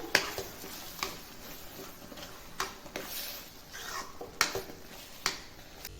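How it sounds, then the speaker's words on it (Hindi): Mustard greens saag is stirred in a kadhai, with a spoon scraping and tapping the pan in irregular clinks over a soft, wet shuffling of the greens, faint and close. "साग को हम अच्छे से मिला लेते हैं।"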